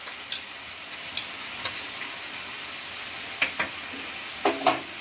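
Ginger-garlic paste with salt, turmeric and Kashmiri red chilli powder sautéing in a pan for Bengali potol chingri, giving a steady close sizzle with occasional light clicks of stirring and no voices.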